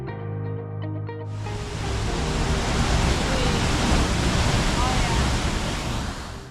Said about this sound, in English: we made a short stop at a pretty nice waterfall